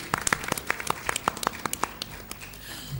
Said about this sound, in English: Can we have a round of applause for all the award winners and the jury members here?